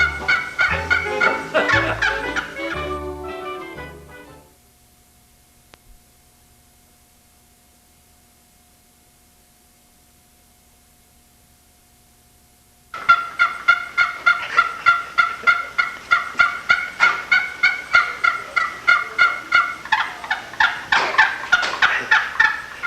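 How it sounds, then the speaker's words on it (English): Wild turkey calling heard as two bursts of rapid gobbling, one at the start and a longer run after a quiet gap, loud and close with a fast, repetitive, rattling rhythm. "That's the way you call wild turkeys."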